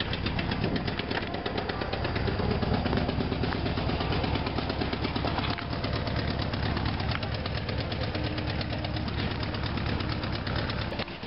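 The air-cooled engine of a 1964 Volkswagen Beetle runs loudly and continuously close by, a steady rough chugging with no break across the whole stretch.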